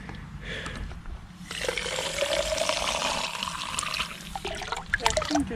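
Water running from a tap at a cemetery, a steady rushing splash that starts softly and then grows fuller and louder, continuing without voices.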